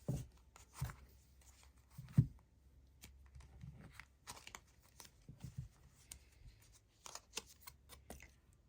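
Moon magic oracle cards being shuffled for a pick-a-card reading, heard as soft papery riffles and shuffles with a few sharper card taps, close and quiet with no talking.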